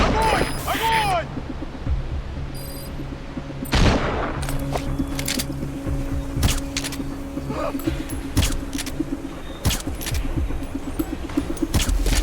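Gunfire in the game Metal Gear Solid V: The Phantom Pain, a loud opening burst and then scattered sharp shots and clicks over a steady low rumble and hum.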